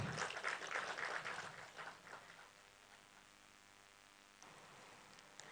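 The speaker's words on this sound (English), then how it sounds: "A round of applause for him." A conference audience claps for a panelist at a creative-business event; scattered, moderately loud applause fades out after about two seconds, leaving quiet room hiss.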